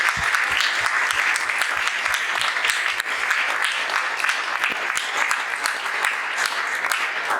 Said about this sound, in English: give them one round of applause for taking that challenge on